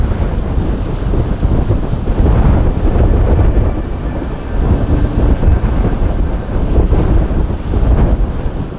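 Strong winter wind roars continuously at Lake Elton, buffeting the microphone with loud, gusting rumble that swells and eases without pause.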